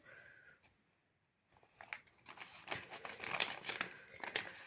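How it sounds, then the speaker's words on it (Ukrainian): Crinkling, tearing rustle of a blue plastic packet being ripped open along its perforation, close and fairly loud, after a brief quiet pause. "Літній гардероб, пакетик синій відкриваємо."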